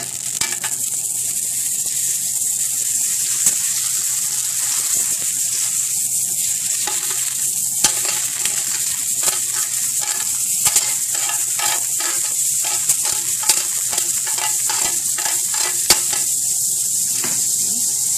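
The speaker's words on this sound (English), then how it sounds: "Once the pan is hot, I'm going to add about a tablespoon of butter." Butter sizzles steadily in a hot pan, readied for rib eye steaks, a loud constant hiss with small crackles and occasional scraping ticks running throughout, no voices.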